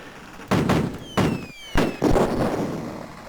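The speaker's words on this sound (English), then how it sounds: "I accidentally threw 2 grenades there, but well, that's not how I wanted to destroy the building" Grenade explosions destroy a building in Cannon Fodder on the Commodore Amiga, three sharp, booming retro blasts in quick succession, each with a crackling decay and a faint falling whistle.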